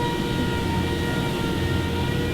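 A large bandsaw at a guitar factory runs while resawing lumber, producing a loud, continuous droning roar with steady whining tones, much like an airplane engine, constant throughout with no talking.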